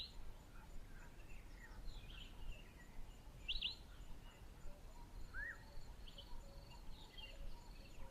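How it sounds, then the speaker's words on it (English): Southern yellow-billed hornbill calling in the bush of Kruger National Park, brief distant calls over a steady hiss of insects and other faint birdsong. "the southern yellow-billed hornbill is a striking and colourful bird"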